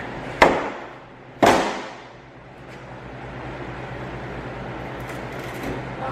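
A car part held on with old adhesive snaps loose with two sharp, loud cracks about a second apart, followed by a low, steady background hum.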